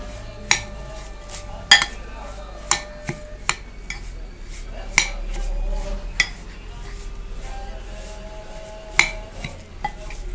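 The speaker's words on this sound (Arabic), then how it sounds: "هقلب كويس الخلطه بتاعتي كلها" A spoon scrapes and clinks against a bowl while lemon pickle mixture with pepper is stirred, producing sharp irregular knocks over a soft, continuous churning, close and moderately loud.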